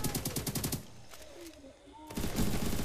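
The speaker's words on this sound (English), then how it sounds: "Now I grabbed the minigun this time because I got the incendiary bullet" A minigun loaded with incendiary bullets rips off a fast, loud burst of rapid fire in Roblox Zombie Mayhem, pauses through a quieter stretch with faint tones, then resumes firing near the end.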